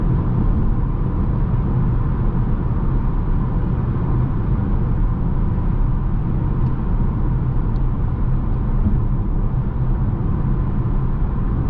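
Steady broadband tire and road roar inside a 2021 Škoda Octavia RS cruising at around 100 km/h at night, with a faint wind hiss; a constant, even drone with no talk.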